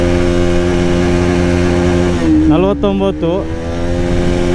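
An NS 200 motorcycle engine revving hard and close, a steady loud drone that climbs and wavers through gear changes, with someone speaking over it.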